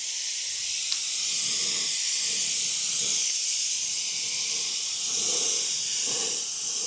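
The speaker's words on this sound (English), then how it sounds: "So here we go, spray some cabinets." Steady loud hiss of a Wagner Flexio 5000 HVLP paint sprayer running continuously while spraying cabinet doors, with faint bumps and movement underneath.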